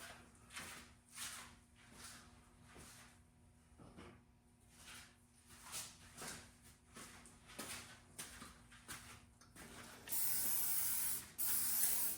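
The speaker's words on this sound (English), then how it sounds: "is just cover it with some WD-40 just to protect it" WD-40 is sprayed onto a 15-inch auto wrench under restoration in a string of short, close hissing bursts, followed by a longer continuous spray near the end.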